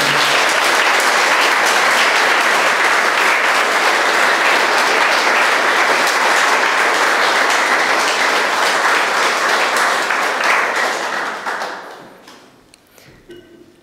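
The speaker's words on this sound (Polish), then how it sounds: "Jeszcze raz oklaskami podziękujmy." Audience applause at a Polish Catholic gathering, a loud, dense and steady roar of clapping from a large crowd lasting about eleven seconds before fading quickly into near silence.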